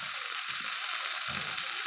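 Lablab beans with salt and turmeric sizzle steadily in a pan, with two soft scraping sweeps of a stirring spoon breaking through the constant frying hiss.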